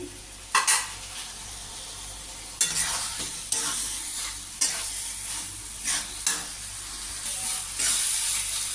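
Shrimp and taro cook down in a thick spice masala in a hot pan: a steady close sizzle punctuated by about half a dozen loud spatula scrapes and stirs, with no voices.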